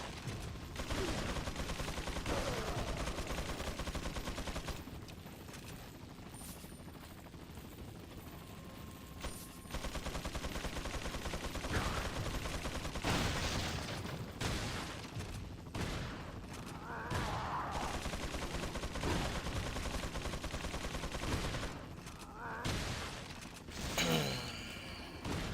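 Gunfire in Resident Evil 4 crackles in repeated bursts of shots, some spaced and some in quick runs, at a steady moderate level across the whole stretch, with faint voice sounds in places.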